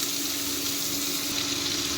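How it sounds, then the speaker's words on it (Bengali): Vegetables for sukto lightly frying in a pan, a steady, dense sizzle and crackle that holds level throughout with no talking. "তো এইটা একটু হালকা ভেজে নেব সবজিগুলো।"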